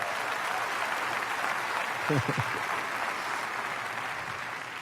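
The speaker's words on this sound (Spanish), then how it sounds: "Den un aplauso fuerte al Señor." A church congregation gives loud applause to the Lord during a sermon, a steady, moderately distant wash of clapping with a brief voice rising over it midway.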